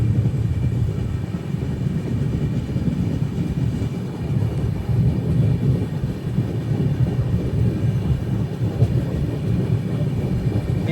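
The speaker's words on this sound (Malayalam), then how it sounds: "5:27 ട്രെയിൻ ഇപ്പോൾ കരൂർ ജംഗ്ഷനിലേക്ക് ഇതാ എത്തുകയാണ്." The Navyug Express from Katra to Tirunelveli rolls into Karur Junction, heard from inside a sleeper-class coach as a continuous loud low rumble and rattle of the wheels and carriage, with no voices.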